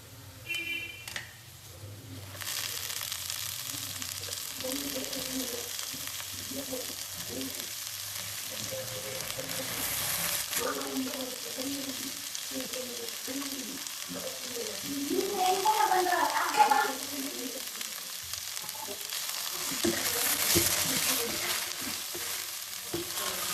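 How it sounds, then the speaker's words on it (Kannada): Chopped vegetables are added to hot oil after onions, for paneer fried rice. A continuous close sizzle with stirring scrapes runs throughout and swells a few times as the pan is tossed. "ಈಗ ಚಾಪ್ ಮಾಡಿರೋವಂತಹ ಎಲ್ಲ ವೆಜಿಟೇಬಲ್ಸ್ನ ಆ್ಯಡ್ ಮಾಡ್ಕೊತೀನಿ"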